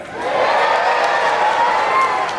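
A theme-park audience at the Indiana Jones stunt show at Walt Disney World's Hollywood Studios cheers and whoops together in a sustained, loud roar of crowd noise.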